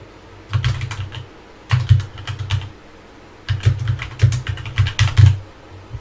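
Keystrokes on a computer keyboard as a note is entered into door and frame scheduling software, coming in three quick bursts of clicky typing, close and fairly clear with no talking.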